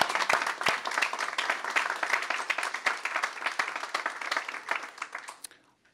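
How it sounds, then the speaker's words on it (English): An audience at a press conference claps in steady, moderately close applause for about five seconds, then it fades out quickly into quiet. "If we can give them a round of applause."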